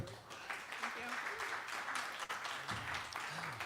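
An audience at a live Americana and folk music show claps and applauds steadily throughout, a dense patter of hands with some voices and cheers mixed in.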